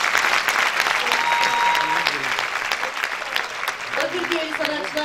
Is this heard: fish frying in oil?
no